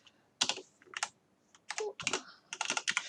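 Fingers type an SQL statement on a computer keyboard in quick, irregular bursts of crisp key clicks with brief pauses, close and clear with no voice.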